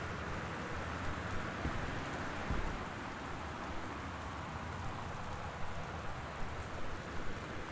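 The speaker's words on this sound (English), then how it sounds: "There's a storm out there." Rain from a thunderstorm pours steadily outside a house in the game Gone Home, a dense, even hiss of falling water with faint low rumbles and no talk.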